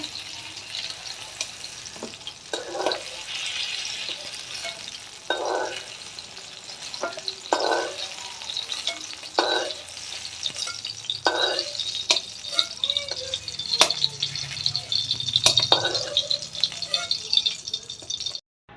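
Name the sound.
eggplant frying in oil, being taken out of pan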